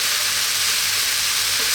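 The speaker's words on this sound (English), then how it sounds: "stir fry this rice for 4 to 5 minutes" Basmati rice stir-fries in a pan with a dense, steady, loud sizzle and crackle throughout, with no talking.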